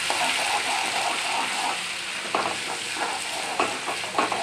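Ginger-garlic paste frying and being stirred in a pan for a Marathi-style brinjal (vangi) dish, a steady close sizzle broken by several sharp scraping stirs of the spoon.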